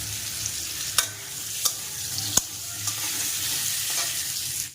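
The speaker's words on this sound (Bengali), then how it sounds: "এবার আমি সব ভাজা, আলু ভাজা হচ্ছে, আর এখানে পেঁয়াজ ভাজা হচ্ছে" Potatoes and onions fry in a pan with a steady close sizzle, broken by a few sharp clinks of stirring.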